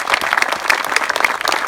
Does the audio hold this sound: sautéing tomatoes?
no